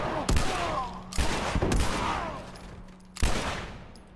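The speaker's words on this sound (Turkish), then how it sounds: "kendi kendine pompalıdan çıktı ya" Gunfire in The Last of Us Remastered, a shotgun going off in three or four heavy, loud blasts spaced about a second apart, each with a ringing tail, under a low steady background hum.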